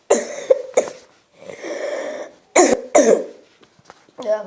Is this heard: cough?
yes